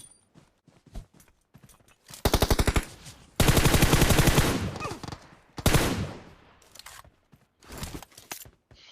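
Automatic gunfire in the mobile battle royale game PUBG Mobile on the Karakin map, with loud rapid bursts of shots alongside scattered single cracks and no speech.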